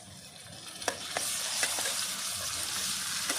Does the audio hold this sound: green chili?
yes